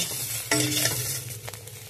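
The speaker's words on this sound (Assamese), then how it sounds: "মই এতিয়া পলু পকা ভাজিছোঁ ইয়াত তেল অলপ বেছি হ'ল" Silkworm pupae frying in plenty of oil in a pan, a close, steady sizzle and crackle with a sharper burst of spatter and a brief stirring scrape partway through.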